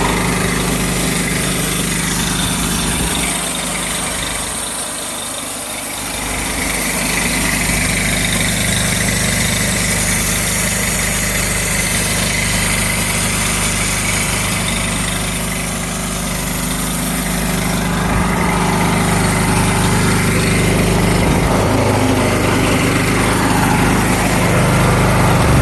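The engine of an EZ Boardwalk Jr portable sawmill runs loudly and steadily at close range for the whole stretch, a constant mid-pitched drone with slight dips in intensity, and no talking over it.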